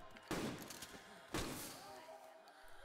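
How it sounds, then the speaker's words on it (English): Shotgun blasts in the video game Metal Gear Solid 4: two sharp, heavy booms about a second apart, each trailing off, with faint game sounds in between. "So we're just gonna blast them with V-ring shotguns."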